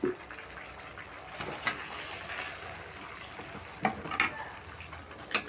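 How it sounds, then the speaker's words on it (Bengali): Ridge gourd stir-fries in spiced masala in a pan with a faint steady sizzle, broken by a few scraping stirs of a spoon, and no one speaks. "এবার ঝিঙেটা দিয়েও আমি দু মিনিট কষিয়ে নেব"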